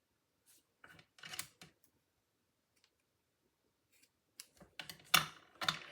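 Scissors trim paper for a card-making kit, two short bursts of crisp close snips and rustles separated by a quiet pause.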